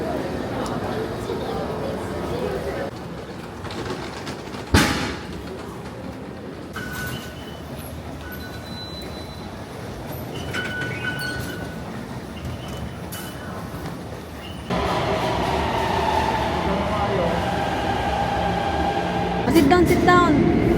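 A Taipei MRT Blue Line metro train rumbles along with a constant low roar and hiss, then grows louder and more rattling partway through, while people talk in the carriage.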